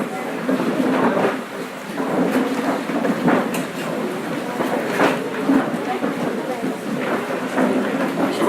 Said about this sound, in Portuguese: A chuva veio sem aviso, né?